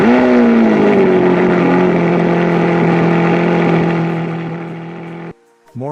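A loud, sustained supercar engine roar with a steady droning pitch that slowly fades, then cuts off abruptly near the end.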